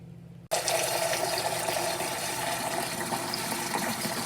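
Tap water runs into a one-quart jar for making Kool-Aid. After a brief quiet moment the flow starts suddenly and keeps up a steady, close rushing hiss to the end.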